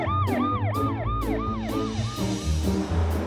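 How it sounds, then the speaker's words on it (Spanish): Cartoon fire truck siren wailing in quick, repeated rising and falling sweeps over a continuous engine-like drone, loud and close throughout. "¡Transfórmate en un camión de bomberos!"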